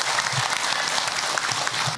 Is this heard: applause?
yes